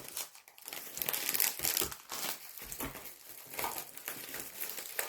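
Packaging crinkles and rustles close by as a monthly scrapbook box is unboxed, in irregular bursts of crumpling with no talk.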